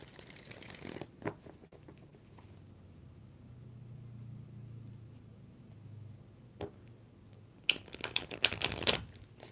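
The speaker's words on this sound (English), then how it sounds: "5 shuffles." Tarot cards being shuffled by hand: a few brisk riffles near the start, a quieter stretch of low rumble in the middle, then a burst of rapid, crisp card flutters close to the microphone at the end, with no talk.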